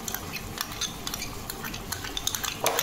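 Chili sauce is stirred into cabbage manchurian in a pan, with a utensil scraping and clicking in quick, irregular strokes, close and fairly loud, with no voices.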